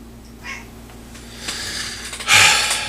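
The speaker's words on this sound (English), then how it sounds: "my cat has a habit of messing stuff up on my workshop" A cat moves about a hobby workshop, giving a faint meow-like cry early on, then rustling and a louder clattering scrape near the end over a steady low hum.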